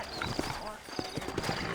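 Horse hooves clop irregularly nearby in the video game Red Dead Redemption while someone talks over them, the hoofbeats faint beneath the voice.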